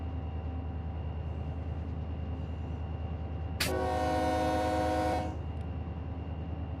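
A locomotive horn in Run 8 Train Simulator sounds one loud, sustained blast lasting about a second and a half at a whistle post, rising abruptly over the steady low engine rumble and then cutting off.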